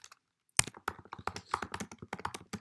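Fingers typing on a computer keyboard: after a short pause, a quick, irregular run of crisp key clicks and taps, close and dry, with no voices.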